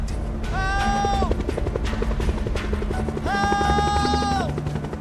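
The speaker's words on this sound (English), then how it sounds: "I can hear the chopper blades coming round and round the mountain." Helicopter rotor blades thump steadily over a high mountain, a continuous beating drone heard throughout while loud sustained musical tones swell over it twice.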